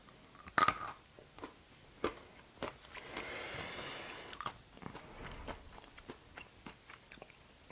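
Someone chewing cheese with walnuts close up, with soft crunchy bites and moist chewing in irregular bursts and a brief breathy hiss in the middle.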